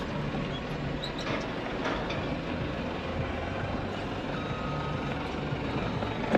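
A forklift's reversing alarm beeps repeatedly in a steady rhythm over a broad rumble of engine and background noise, with no talking.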